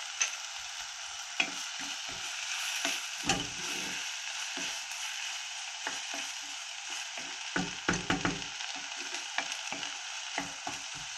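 Onions fry in a pan with a steady bright sizzle, broken by repeated scraping and clicking knocks of a utensil against the pan.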